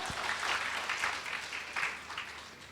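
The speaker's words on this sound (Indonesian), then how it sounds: "Kasih tepuk tangan dulu dong untuk Ko Michael." A crowd claps together in sustained applause, the dense patter holding steady and easing slightly toward the end, with no one speaking.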